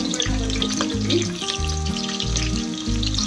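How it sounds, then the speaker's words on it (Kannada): Chopped onions sizzle steadily in a hot pan for chicken biryani, a soft continuous frying hiss heard beneath loud tonal background music. "ಈರುಳ್ಳಿ ಒಂದು ಚೆನ್ನಾಗಿ ಫ್ರೈ ಆಗಬೇಕು"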